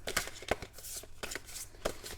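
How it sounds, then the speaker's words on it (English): A small pile of oracle cards being shuffled by hand, a quick series of crisp riffling and slapping flutters with short gaps, close and fairly quiet. "I've just been shuffling like this with my eyes closed"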